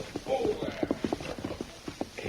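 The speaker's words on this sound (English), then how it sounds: "they heard a horse approach and stop outside" A horse's hooves clip-clop close by at a walking pace, a run of uneven thuds that slows and thins toward the end as the animal comes to a stop outside a headquarters tent in a frontier camp.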